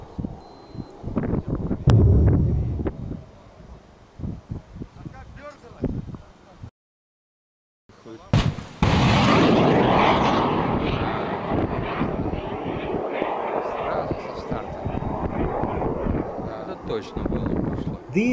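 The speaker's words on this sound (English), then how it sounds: "Missile start-up was carried out in normal mode" Voices and brief tones come first, then a short silence, followed by a sudden, loud, sustained rushing roar of a missile launch that carries on to the end.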